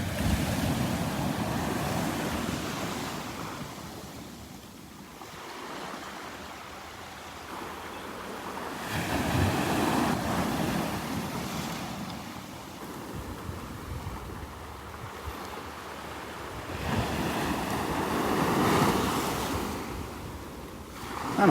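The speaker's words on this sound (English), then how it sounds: "Love watching the water splash up into the trees." Ocean waves roll in and splash against the beach and trees at Wiggins Pass, Delnor-Wiggins, in slow recurring surges of wash and spray over steady wind noise, with no voices.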